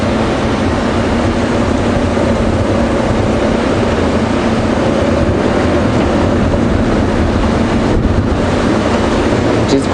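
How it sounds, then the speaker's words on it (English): Wind buffeting during a safari drive at Djuma Game Reserve, a loud, constant roar over the microphone with rumbling vehicle noise beneath and no talk. "It is quite windy"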